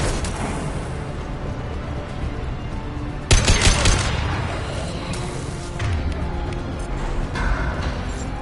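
Bursts of gunfire in the Mass Effect 2 game: rapid rattling volleys over a noisy battle bed, with a sharp, loud cluster of shots a little past the middle, then scattered fainter shots trailing off.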